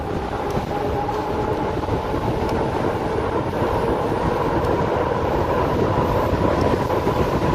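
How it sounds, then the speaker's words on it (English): Strong, steady wind roars and buffets the microphone while riding a 2018 Rad Power RadMini electric fat-tire folding bike, a dense low rumble that fills the whole stretch with no talking. "A lot of wind out here."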